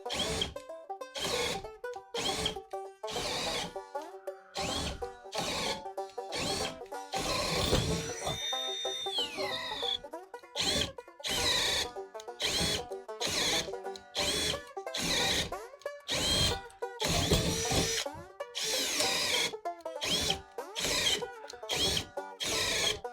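A cordless drill bores a half-inch Bosch spade bit into 2x lumber in repeated short bursts of high whining motor and chewing wood, separated by brief silences, with one longer rising whine in the middle.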